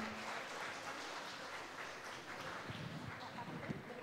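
Seminar audience applauding steadily throughout, a dense wash of many hands clapping at moderate distance with a faint voice underneath.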